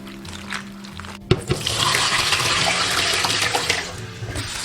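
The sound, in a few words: rinsing black-skinned termite mushrooms under running water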